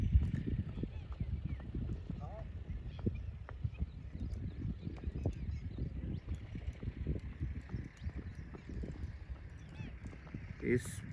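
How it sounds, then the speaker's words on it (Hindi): A Sindhi horse moves in the fast single-foot gait called rewal, its hooves striking in a rapid, even patter that runs throughout, fairly close and clear against quiet surroundings. "सिंधी घोड़े सेम चाल में बहुत स्पीड से चलते हैं।"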